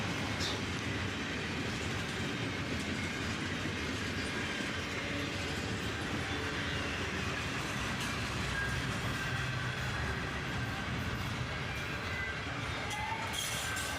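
A CSX freight train rolls past nearby in bright sunshine, a steady broadband rumble with faint wheel clatter holding evenly for the whole stretch, with no voices.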